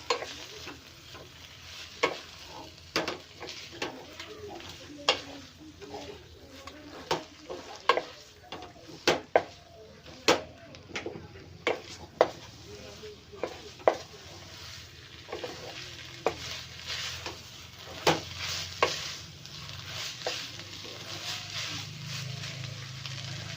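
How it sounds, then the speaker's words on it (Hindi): Noodle ingredients sizzle steadily in a hot pan while a utensil stirs them, clacking sharply and irregularly against the pan throughout. "सारे चीज़ों को अभी हमें मिक्स कर लेना होगा।"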